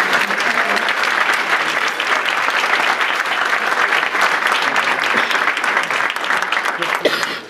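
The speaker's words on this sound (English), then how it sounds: "another round of applause for that" A roomful of people applauds loudly and continuously at a Martin Luther King Jr. holiday breakfast, dense clapping holding steady before tailing off at the very end.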